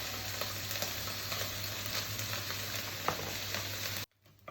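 Tantuni meat frying in oil on a griddle gives a soft, even crackling sizzle with faint scattered pops, which cuts off abruptly near the end.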